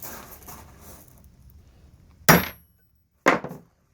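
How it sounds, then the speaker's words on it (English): Two sharp, loud metallic hammer strikes land about a second apart on a center punch, peening a Mopar spindle, after a stretch of faint low background noise. "It's called peening the spindle. Take your really good center punch right there."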